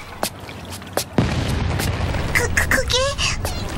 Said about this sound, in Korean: 불꽃놀이 봐야지